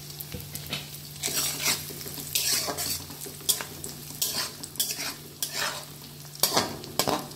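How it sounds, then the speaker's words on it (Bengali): Cashews and raisins sizzle steadily in hot oil in a pan while being fried for a pulao-style veg fried rice, with repeated scraping stirs and clinks of the spoon against the pan; no voices. "কাজু বাদামটা ভেজে নেব আগে।"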